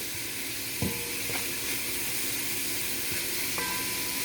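Shrimp stir-fry noodles with dark soy sauce cook in a pan with a soft continuous sizzle and hiss, a few light clinks of utensil on pan breaking in now and then.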